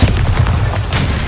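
A Bombarda blasting spell explodes in the video game Hogwarts Legacy as a loud, low rumbling boom that fills the whole moment with heavy bass.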